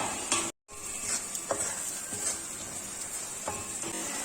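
Green chillies sizzle in a frying pan while a garlic kuzhambu is being cooked, giving a steady hiss with a few stirring clinks. There is no talk over it.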